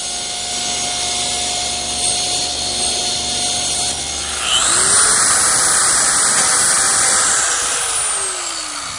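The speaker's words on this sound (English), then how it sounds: "I've tilted my saw blade to 45 degrees." A table saw with its blade tilted to 45 degrees runs with a high, steady whine, then bites into wood midway, the pitch dropping into a louder rasping cut before easing off near the end.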